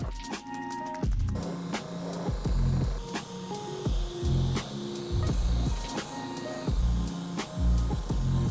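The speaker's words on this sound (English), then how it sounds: "toss it in the airbrush and start going over the mask" An airbrush spraying paint onto a goalie mask, with repeated bursts of airy hissing that start and stop in short pulses over a low compressor-like hum, close and fairly loud.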